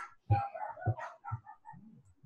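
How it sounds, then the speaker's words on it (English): Neighbor's dogs barking, three sharp close barks spaced about half a second apart followed by a short whine, loud and alone without speech. "Apologies on my neighbor's dogs."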